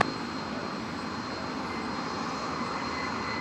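An American Airlines jet takes off from runway 18 left at DFW airport, a steady, loud, broadband engine roar that holds throughout without any pause.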